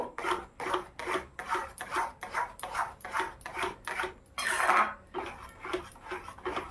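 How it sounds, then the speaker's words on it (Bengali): A spoon scrapes through thick mango sandesh mixture in a pan in a steady rhythm of about a dozen rasping strokes, close and clear, with no talk. "এইভাবে কিছুক্ষণ ধরে নেড়ে চেড়ে নেব।"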